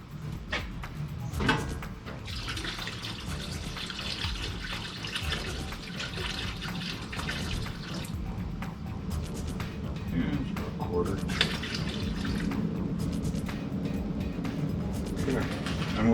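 Cleaning solution poured into a parts washer tank on a wash stand, a continuous splashing, running-liquid sound at close range lasting the whole stretch, with a person talking over it.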